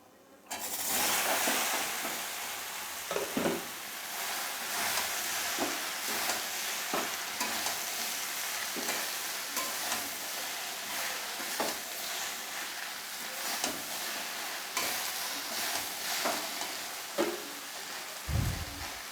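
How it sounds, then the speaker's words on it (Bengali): Bottle gourd being stirred and fried in reddened spice masala, a steady broadband sizzle with repeated scraping stir strokes throughout, close and fairly loud with no talking. "মশলাটা আমার লাল হয়ে গেছে এবারে আমি লাউটাকে দিয়ে দেবো"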